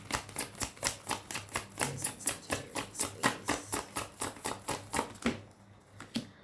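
Tarot cards are shuffled in a quick, even series of crisp snapping clicks that run for several seconds before stopping abruptly.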